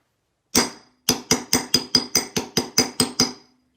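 A hammer strikes a metal stamp into a washer, pressing a flower pattern for a hand-stamped button. One ringing blow comes first, then after a pause about ten quick, even taps follow close by, loud and clean with no voices.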